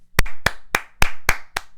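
Hands clapping six times in an even, deliberate rhythm, each clap crisp and close with a short ring after it, nothing else in between.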